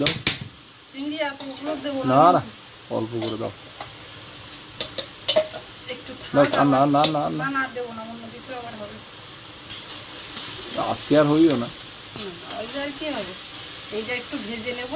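Small whole fish frying in oil in a pan in a home kitchen, a steady sizzle running under a woman's speech, with occasional stirring and a few light clinks of utensils.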